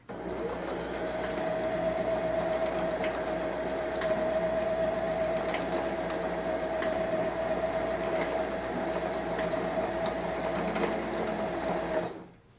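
A sewing machine runs steadily for about twelve seconds, stitching forward and backward over elastic on a pair of comfy pull-on pants. Its close, continuous whirring hum stops abruptly at the end.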